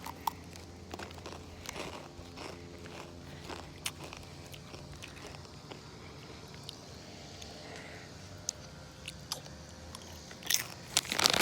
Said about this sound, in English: today we're going to be doing the TAKIS mukbang. We're just going to see what TAKIS tastes like